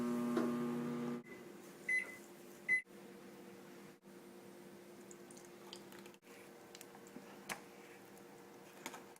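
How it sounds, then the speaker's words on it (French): A microwave oven hums steadily while melting coconut oil for vegan banana bread, a low droning whir with a few faint beeps and clicks scattered through it. "Je vais le faire fondre là, doucement au micro-ondes."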